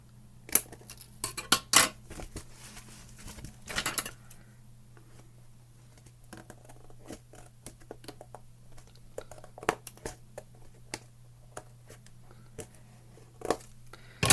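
Scissors trimming paper for a scrapbook layout, giving sparse, sharp snips and light paper rustles spread over a quiet background hum, close and intermittent.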